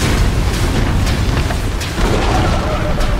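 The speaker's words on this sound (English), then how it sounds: "Radiant's middle tower is destroyed" A tower collapsing in a Dota 2 match, a dense, rumbling explosion with heavy low-end booms that sustain throughout, loud and continuous, with commentary-style speech faintly in the mix.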